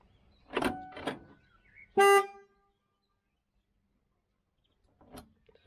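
A Ford Transit MK7 van with faulty central locking gives two clunks of the lock mechanism, then a short, loud horn honk, and after a silence another faint clunk.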